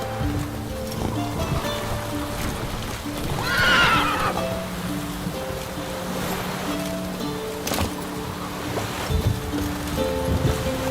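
Roach the horse in The Witcher 3 video game, running over a continuous rushing backdrop with a loud whinny partway through and occasional hoof thuds, while a faint low hum runs underneath.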